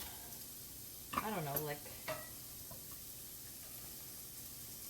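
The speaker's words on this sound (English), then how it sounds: "they're currently sauteing on about medium power" Organic carrots cut into matchsticks sauté on medium heat, giving a faint, steady sizzle and soft stirring while a voice speaks briefly over it.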